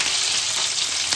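Dal frying in a hot pan gives a steady, close, bright sizzle that continues unbroken throughout, with no voices.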